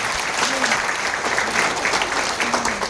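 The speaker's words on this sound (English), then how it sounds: "can we all give the first timers a round of applause first?" Leaders at a meeting give first-time attendees a round of applause, a steady, fairly loud crowd clapping for about three seconds, with a few voices faintly heard through it.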